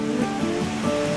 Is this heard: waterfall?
yes